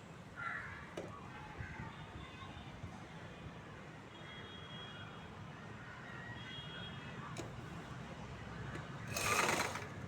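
A sewing machine runs a quarter-inch chudithar seam, stitching over a folded, already sewn seam with a continuous, fairly quiet whirring drone and a few faint clicks, ending in a brief louder rustle.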